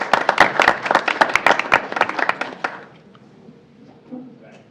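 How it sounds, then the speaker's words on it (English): An audience at a school board meeting gives a short, dense round of clapping that tapers off after about three seconds, leaving quiet room noise and a faint voice. "a round of applause for them as well, please."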